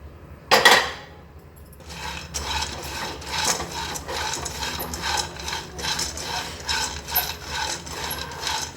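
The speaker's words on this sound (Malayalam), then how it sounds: "ഇനി നിലക്കടല ഒന്ന് വറുത്തെടുക്കണം." Peanuts are dry-roasted in a pan for a homemade malted drink mix, giving a steady run of rhythmic rattling and scraping strokes after a sharp clatter at the start.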